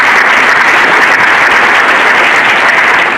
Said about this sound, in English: Just have a quick round of applause for them